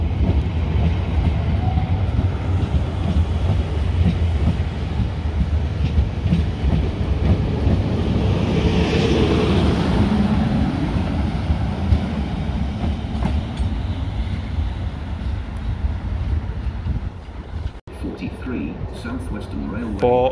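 A South Western Railway class 450 electric train passes through Eastleigh station with a steady, loud rumble and wheel clatter lasting about twenty seconds, while voices are heard nearby.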